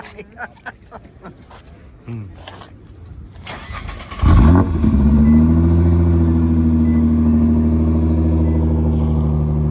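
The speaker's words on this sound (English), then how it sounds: "I'd love to hear this exhaust because that's a big ass exhaust" A car with a big exhaust starts up and settles into a steady, fairly mild rumbling idle with a slight rev, close and loud, after a few seconds of people talking nearby.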